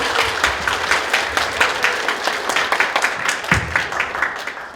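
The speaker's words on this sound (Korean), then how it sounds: "박수로 맞아주세요" Audience applause welcoming a teacher to present a school case study at a Korean education research workshop: dense, steady clapping from a crowd in a hall that fills the whole stretch at even volume.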